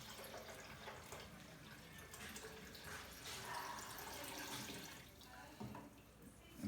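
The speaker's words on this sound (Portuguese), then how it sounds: "Vou virar a água" Water pours into a container during a physics lab experiment on the refractive index of water, a faint continuous splashing and filling sound with a few small knocks, heard alone.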